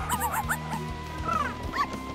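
A cartoon dog yips and whimpers in short high bursts over music, guarding pumpkins from crows in a Halloween story.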